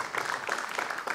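A studio audience applauds on a TVRI Yogyakarta talk show, a short steady patter of clapping from many hands at close range with no voice over it.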